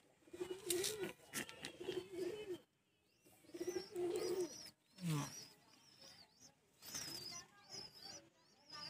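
A pigeon coos in short repeated phrases close by in a loft, with faint chirps from other birds around it and someone talking quietly at times.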